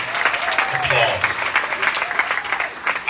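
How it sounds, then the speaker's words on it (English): An audience at a grand opening event in Atlanta claps for the mayor in a sustained burst of applause, loud and close, with some voices mixed in. "Let's give him an amazing applause."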